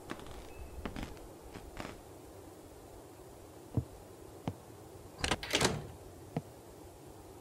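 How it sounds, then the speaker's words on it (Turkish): In a horror game set in a house with a troubled past, another locked door gets tested: scattered soft clicks and footstep-like taps, then a brief burst of handle rattling and clunks, ending with a final sharp knock. "Bu kapı da kilitli."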